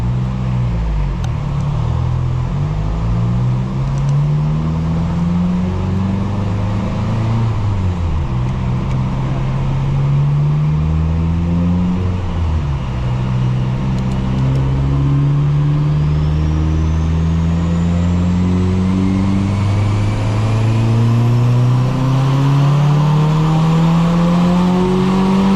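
A turbocharged 2023 Subaru WRX on 92-octane fuel, fitted with an upgraded turbo and running 18 pounds of boost, revs hard on a dyno, its loud engine note rising through repeated pulls and gear changes with continuous roar throughout.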